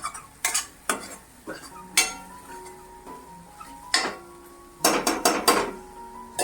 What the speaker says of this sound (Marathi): चांगलं तेल सुटेपर्यंत परतून घ्यायचं आहे आपल्याला मसाला